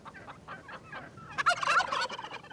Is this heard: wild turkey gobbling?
yes